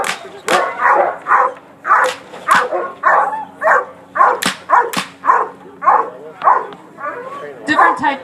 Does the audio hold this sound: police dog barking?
yes